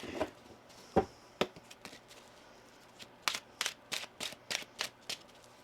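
Tarot cards shuffled by hand, a few scattered riffles and then a quick run of crisp, close card flicks and slaps in a quiet room.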